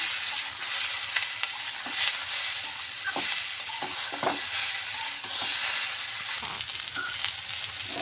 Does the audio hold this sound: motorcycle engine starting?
no